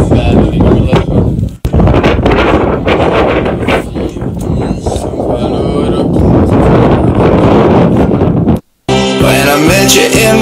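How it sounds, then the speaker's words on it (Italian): Strong wind roars and buffets the microphone nonstop while out on a boat at sea off Elba, loud and rough, with gusty surges. A short break near the end gives way to music. "oggi siamo usciti in barca, ma diciamo che c'è un vento assurdo"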